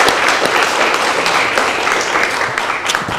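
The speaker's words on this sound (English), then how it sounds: "Can we have a round of applause for Superintendent Matsuda?" An audience applauds a school superintendent during an official district visit, with dense, steady clapping that holds at an even loudness throughout.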